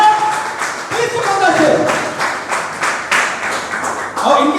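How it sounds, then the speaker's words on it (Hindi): An audience at a Modicare meetup in Kaimganj claps loudly in rhythmic bursts, with voices talking over the applause. "आप लोगों से जोरदार तालियां उनके लिए चाहिए"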